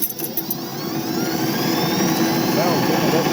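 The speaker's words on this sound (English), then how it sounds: "I'm going to run my motor up." A Cub tractor motor revs up while driving a flail mower, a loud, rising steady roar that swells and holds close by.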